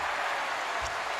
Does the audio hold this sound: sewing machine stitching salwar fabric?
no